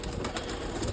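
Pigeons coo briefly against a steady, hissy outdoor background.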